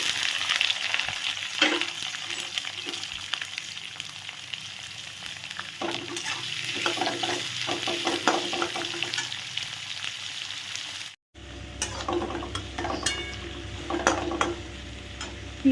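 Onions fry in a pan with garlic while being stirred, a steady crackling sizzle broken by scraping strokes of the spoon, close and continuous, shifting briefly near the end.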